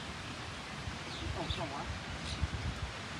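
Strong wind gusting across an open rice field during harvest, a steady broad rush with soft rustling swells and faint bird calls in the distance.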